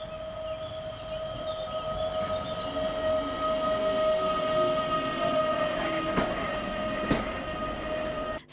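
A regional passenger train runs on a railway line in Małopolska, Poland, giving a steady rolling rumble with a sustained whining tone, at moderate level, with a few sharp clicks from the track.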